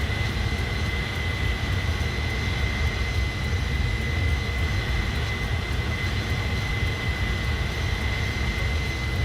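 Steady, loud drone of a Cessna 310's twin engines in Microsoft Flight Simulator, heard from the outside view on a flight from Kyiv to Istanbul, with a constant high whine running over a rumbling roar throughout, no voices.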